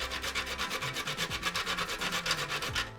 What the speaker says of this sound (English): and then I will grate some nutmeg.